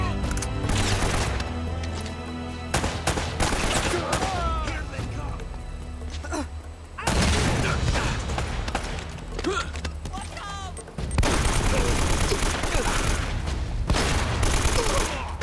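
Bursts of video-game gunfire from Uncharted: Drake's Fortune, loud repeated shots and rapid volleys running through most of the stretch, with brief pauses, under occasional reactions from a player.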